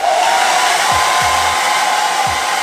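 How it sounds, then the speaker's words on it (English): Handheld hair dryer blowing continuously at close range, a loud steady whooshing hiss with a faint whine, used to dry thick curly hair. "Then we're going to hair dryer it."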